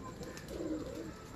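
A breeder's pigeon gives a soft, low coo amid a quiet background, one brief call, heard faintly and close by.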